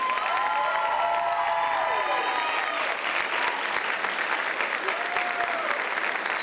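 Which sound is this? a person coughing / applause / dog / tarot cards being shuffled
applause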